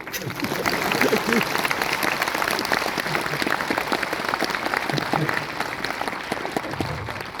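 Audience applause fills a hall at an event where the Governor of Uttarakhand is present, a steady dense clapping that continues for the full stretch at an even level.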